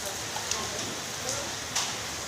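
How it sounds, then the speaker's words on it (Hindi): Heavy rain falling in Delhi, a steady broadband hiss with a few brief louder splashes, recorded outdoors at moderate distance; no talk during the stretch. "दिल्ली में बहुत ज़्यादा हो रही है रेन"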